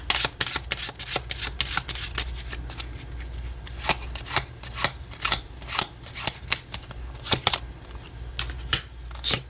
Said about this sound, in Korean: 한 번만 더 셔플할게요.